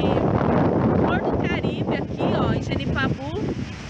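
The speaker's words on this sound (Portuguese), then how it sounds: "vai ficar um pouquinho de som de vento aqui" Wind buffeting the microphone at Genipabu beach near Natal, a constant loud low roar throughout while a person talks over it.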